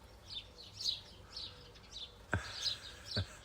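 Young sparrows in a garden calling to be fed by their mother: faint, high, repeated chirps and tweets scattered through the moment, with a few sharper clicks near the end over quiet background.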